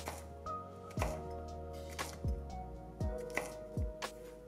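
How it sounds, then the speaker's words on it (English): A knife cubes potatoes for home fries on a cutting board, making five evenly spaced, sharp chopping thuds close by over a low hum. "if I want home fries, which is what I'm doing today, I will just go in and cube those again"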